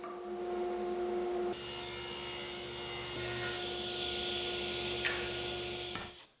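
A saw rips a sheet of plywood down the middle, starting abruptly with a steady, loud rasping whine that holds for several seconds before cutting off at the end.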